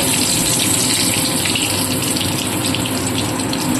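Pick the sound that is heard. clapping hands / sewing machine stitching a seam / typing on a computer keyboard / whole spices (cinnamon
whole spices (cinnamon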